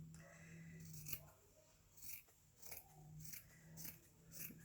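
Scissors cutting fabric for a homemade face mask: several quiet, crisp snips in an uneven rhythm, close and faint, with a low hum running underneath.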